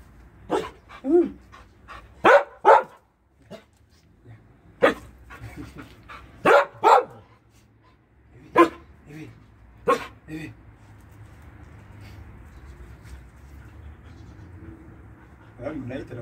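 A dog barks in scattered sharp bursts, some doubled, nearby, with panting and quiet voices between barks, then a stretch of low background noise.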